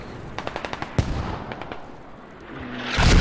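Squad video game battle on Al Basrah with a string of evenly spaced distant shots, one sharp heavy blast, then further muffled thuds and a rising rumble near the end, mostly without talk.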